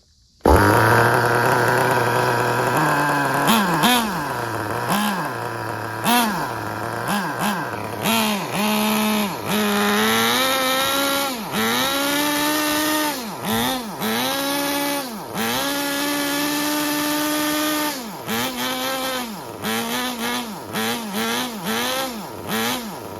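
A small nitro engine in a Traxxas Nitro 4-Tec RC car sputters to life, then runs loud and buzzy, repeatedly revving up and dropping back in rapid cycles for over twenty seconds.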